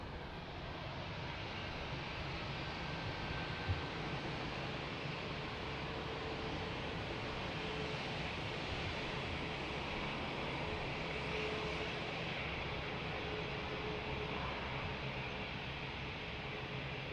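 A passenger airplane lands at Lisbon Airport, a steady, loud, broadband roar of jet engines and rushing air that holds evenly throughout, with no voices.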